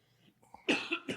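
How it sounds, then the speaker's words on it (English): A short, close cough, a quick harsh burst followed by a second smaller one, fairly quiet in an otherwise calm room. "every time you cough, it's like cough"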